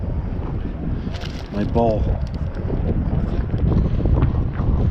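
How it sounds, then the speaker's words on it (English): Strong wind sweeps across a frozen lake during ice fishing and buffets the microphone with a constant roaring rumble. A person speaks briefly over the noise. "It's too windy out here"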